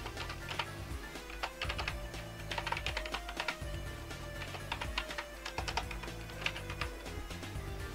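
Rapid clicking of computer keyboard keys as a web link is typed in, a steady close patter of keystrokes with brief pauses and no talking.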